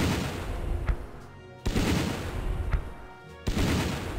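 An artillery bombardment in the strategy game Battle Academy comes as heavy, loud blasts: two large booms with rolling noise between them and smaller cracks mixed in.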